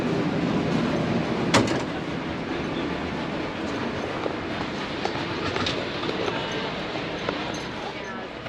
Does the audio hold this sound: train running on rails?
yes